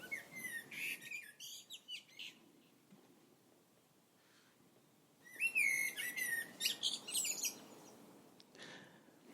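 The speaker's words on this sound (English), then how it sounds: "That is the sound of our Turdis Merula, or common blackbird." A common blackbird (Turdus merula) sings clear, fluting whistled phrases in two bursts separated by a quiet pause, close and bright against a faint background, with no talking.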